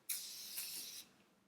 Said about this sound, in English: Oh, it's aerosol.